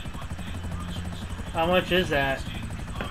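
Rotor thump of an Akula helicopter in the GTA video game runs steadily through the background, partly masked by someone talking over it.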